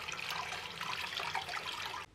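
Water runs steadily from the hot-and-cold tap of a hotel washbasin in a Sapporo hotel room, a broad, even splashing rush at close range that cuts off abruptly near the end.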